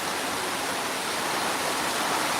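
Cloudburst-like heavy rain pours down while floodwater rushes in torrents, a dense, unbroken roar of water that stays loud and even throughout.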